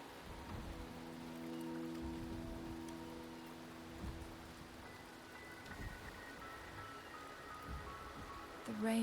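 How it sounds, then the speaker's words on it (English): Rain falling in the video game Wuthering Waves, a soft steady patter with faint low rumbles, quiet and distant beneath sustained game music tones. "The rain is subsiding, and the sky will soon clear."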